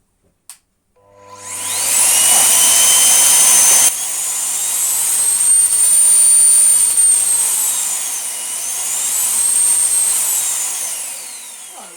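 A Miele C3 Powerline vacuum cleaner motor starts after a click, spinning up into a loud, steady high-pitched whine that shifts slightly in pitch as it runs, with no talking.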